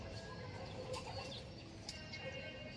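Racing pigeons flap their wings near a loft in short, soft fluttering bursts, with faint cooing and chirps against a steady outdoor background.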